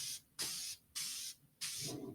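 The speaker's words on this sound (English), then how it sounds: "now I'm going to spray on here so that you guys can see how much coverage to really give it" Three short, close hissing spray bursts from a spray can onto a canvas for reverse sublimation, each lasting about half a second with brief silent gaps between, no voices.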